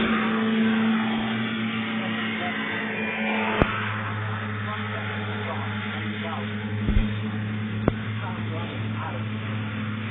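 Racing hovercraft engines drone steadily at a national hovercraft race in Tamworth, UK, as craft approach the water, with a constant loud roar and a few sharp knocks, while a commentator talks over the noise.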